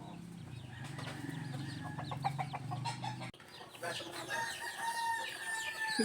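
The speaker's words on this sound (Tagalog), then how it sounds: "Susunuran ang mga gutom na sisiw." Hungry chicks peep in a lively run of high, thin chirps that overlap and repeat over a low farmyard background.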